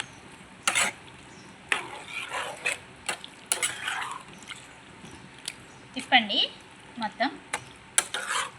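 A spoon stirs chicken stuffed capsicum curry in a pan. Scattered scraping knocks and faint sizzling sound close by, and a voice is briefly heard.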